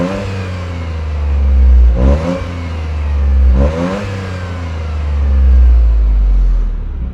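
A 2025 Toyota GR Corolla three-cylinder engine with an aftermarket exhaust revs close by in three loud, rising pulls, each building to a peak and then falling back to a steady idle.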